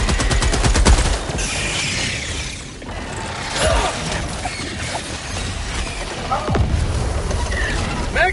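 Sustained automatic gunfire in Helldivers 2, a steady loud burst of rapid shots running through most of the stretch amid battle clatter, tapering as the magazine runs dry, with shouting voices over it.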